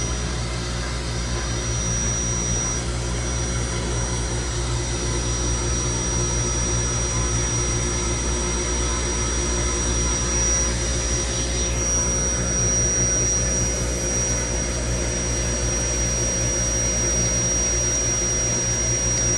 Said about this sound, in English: Air pumps are running. I can feel it pushing air.